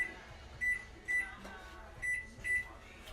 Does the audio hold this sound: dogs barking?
no